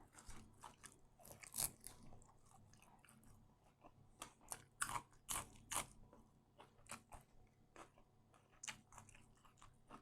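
Close, quiet chewing and crunching while eating salmon laab with sticky rice and fresh raw vegetables, with irregular crisp bites and moist mouth sounds continuing steadily throughout.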